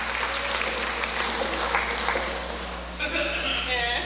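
Audience applause for the classified employees at a College of the Siskiyous event, a steady wash of clapping throughout with some voices mixed in near the end.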